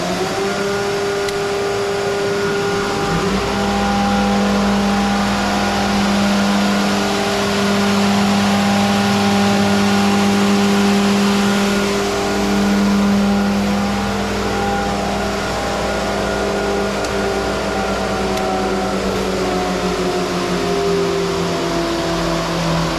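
Molder machine planing rough sawn pine 2x6 lumber, a steady loud mechanical drone with layered humming tones and broadband cutting noise running continuously throughout, no speech.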